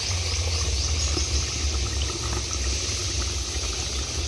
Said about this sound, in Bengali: মাছটা দিয়ে দিয়েছি, একটু ফুটিয়ে নেব।